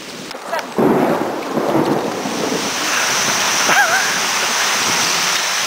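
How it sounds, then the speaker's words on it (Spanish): A heavy thunderstorm in Oaxaca, with loud rolling thunder and steady downpour over a wide rumble, and brief voices shouting in the first seconds. "Estamos en medio de una mega tormenta."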